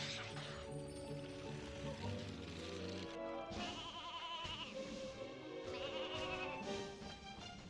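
In the video game Banjo-Kazooie: Nuts and Bolts, a sheep lets out repeated wavering bleats that sound close and fairly clear, with a mechanical ratcheting sound mixed in.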